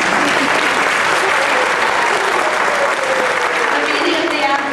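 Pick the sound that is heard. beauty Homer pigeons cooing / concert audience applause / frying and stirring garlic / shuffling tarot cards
concert audience applause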